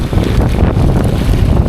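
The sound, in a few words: strong wind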